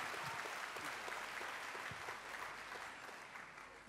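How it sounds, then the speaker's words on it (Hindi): Audience applause at an award event honouring a cricketer's mother, steady dense clapping from a crowd filling the whole stretch at a fairly even level, with no talk over it. "जोरदार तालियां हो जाए इनके लिए।"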